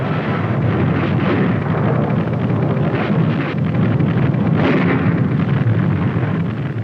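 Artillery of the 92nd Field Artillery fires against a panzer division near Ciney, Belgium, in World War II, heard as a loud, continuous rumbling barrage with rough, wind-like roaring and no clear gaps.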